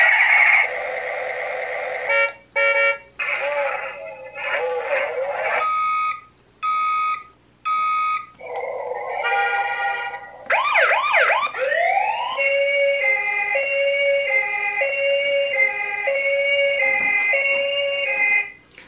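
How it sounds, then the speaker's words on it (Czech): Buttons on the steering wheel of a plastic ride-on toy car set off one electronic sound after another: wailing siren tones, beeps and short jingles, played loud and close for a long stretch with brief gaps between them. "No a vydává to různé zvuky na volantu, jsou tlačítka, tak já vám to jenom pár těch tlačítek zmáčknu,"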